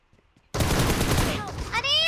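A shotgun fires in PUBG Mobile: an abrupt loud burst of gunfire breaks a near silence, with reverberating blasts and a short ringing tail, and a voice talks over it.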